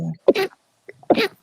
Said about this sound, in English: I wonder if FPs have cuter than average sneezes.